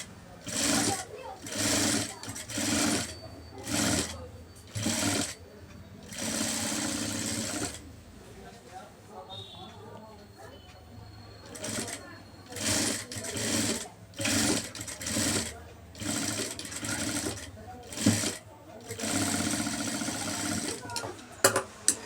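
A sewing machine runs in repeated short bursts while putting a kinnari stitch on a blouse, its close, steady whirring stopping and starting every second or two, with speech heard in the background between runs.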